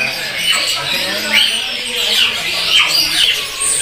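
A young spotted white-rumped shama (murai batu trotolan) at a bird kiosk gives repeated squawky, rising calls close by, while someone talks continuously over them.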